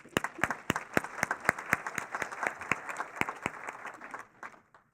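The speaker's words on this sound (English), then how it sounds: "So I'm going to applaud you guys" An audience at a State of Downtown Madison address claps in a short round, crisp individual claps standing out over a softer crowd patter before it thins and stops near the end.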